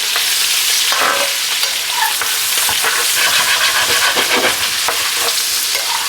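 Garlic sizzling loudly in a hot pan, with steady bright frying hiss and the scrape of stirring close up throughout.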